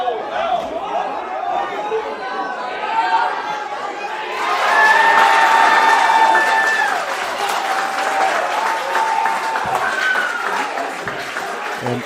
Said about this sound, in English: And a roaring applause for Robles